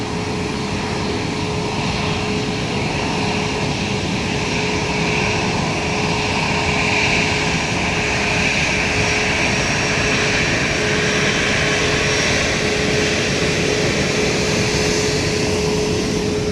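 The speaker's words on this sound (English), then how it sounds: "we're looking at the A319 EasyJet coming in today from Glasgow" An EasyJet Airbus A319 arriving at London Luton Airport from Glasgow, a steady, loud jet roar with a constant engine whine that holds throughout and swells slightly toward the middle, with no voices.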